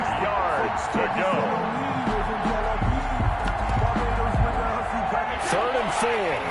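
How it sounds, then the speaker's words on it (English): Stadium crowd noise in an American football video game roars steadily through the play, a dense continuous din of cheering and noise under a commentator's voice. "This crowd urging on their defense. They're up and making noise."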